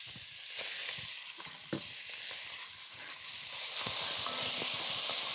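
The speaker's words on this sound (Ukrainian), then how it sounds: "Додаємо м'ясо, м'яско, додаємо телятину, крупно нарізану." Coarsely chopped veal sizzles in a hot pan over a high flame, a steady close frying hiss with occasional pops and stirring scrapes, growing louder toward the end.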